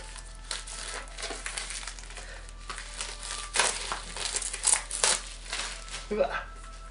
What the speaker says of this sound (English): here it is, and I'm about to unwrap.